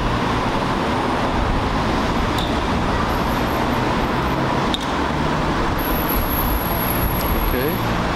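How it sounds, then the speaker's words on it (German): Cars passing on a road near the Marienberg Fortress in Würzburg, a steady wash of traffic noise with a few brief passing swells, moderately loud and continuous, with no talk. "Warte noch 10 Sekunden, dann sind die Autos durch"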